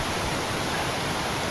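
Rushing water from creeks and waterfalls along the Timberline Trail makes a dense, steady roar, loud and unbroken throughout, with no voices over it.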